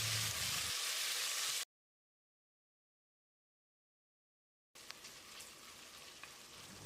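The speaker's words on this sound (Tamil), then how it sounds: "தக்காளியை மசிகிற அளவுக்கு வதக்கிடலாம்." Chopped tomatoes sauté in a hot pan with softened onions for Chettinad mutton biryani, giving a steady close sizzle and crackle that drops out completely for a few seconds midway, then resumes.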